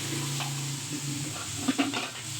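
Boneless chicken sizzles on a hot tawa while a spatula stirs it, a steady frying hiss with a couple of soft scraping clinks toward the end.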